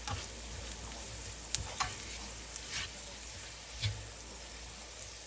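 Bottle gourd peels fry in a pan as egg is stirred in, a steady soft sizzle with scattered scraping clicks of the spatula, close and alone.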